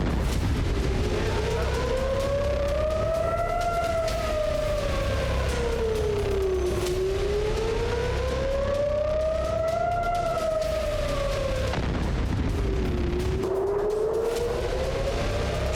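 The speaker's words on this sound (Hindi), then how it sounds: "शनिवार की रात इजराइल की राजधानी तेल अवीव समेत कई शहर सायरनों की आवाज से गूंजते रहे।" Air raid sirens wail during a missile attack on Israeli cities including Tel Aviv, steady rising and falling tones cycling slowly and loud throughout, with continuous background noise and no speech.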